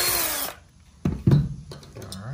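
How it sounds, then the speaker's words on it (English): A power drill bores a hole into the metal corner of an enclosed cargo trailer, with a long whining burst at the start followed by a couple of short, close grinding bursts, loud and with no talk. "So I'm gonna drill one hole in the corner"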